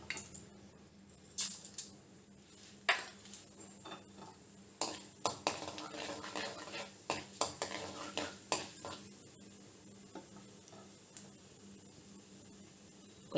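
Tempering seeds and dry red chillies fry in oil in a kadai, with a faint background sizzle under quiet, irregular metallic clinks and scrapes of a spoon stirring in the pan.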